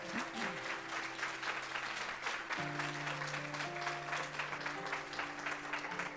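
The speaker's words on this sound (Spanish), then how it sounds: "Den un aplauso fuerte al Señor." Steady, dense applause from a church congregation, continuous throughout, with sustained organ or keyboard chords playing underneath.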